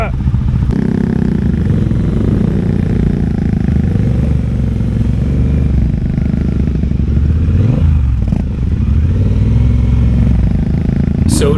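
A 125 motorcycle engine revving loudly up close at a Distinguished Gentlemen's Ride charity event, a rough, throbbing roar with rising and falling revs, with voices heard under it.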